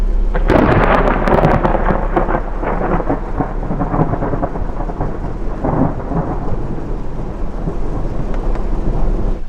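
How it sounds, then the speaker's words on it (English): A thunderstorm during an off-road drive in New Mexico opens with a loud, close crack of thunder that rolls on into a heavy, steady wash of rain, with no voices. "Here comes the rain."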